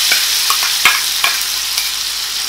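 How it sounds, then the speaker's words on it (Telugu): Peanut and ridge gourd chutney is stirred into a pan of tempering with the stove off, several distinct scrapes and knocks of a spoon over a fading sizzle. "పచ్చడి మొత్తం వేసుకొని ఒకసారి మొత్తం కలిపి సర్వ్ చేసుకుంటే సరిపోతుంది"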